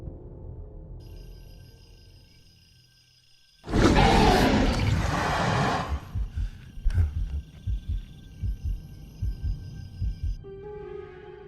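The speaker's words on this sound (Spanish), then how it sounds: "un fuerte rugido interrumpe la escena" A loud dinosaur roar from a Metriacanthosaurus, a sound effect in an analog horror setting, bursts in after a low rumble and lasts about two seconds, followed by a series of heavy rhythmic thuds.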